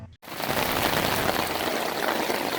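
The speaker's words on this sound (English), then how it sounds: "Waiting to get on the Tiger Cruise, and it decides to rain." Steady, dense rain falls on hard surfaces after a brief silent gap, a continuous loud hiss while waiting to board a Tiger Cruise on the aircraft carrier USS John C. Stennis.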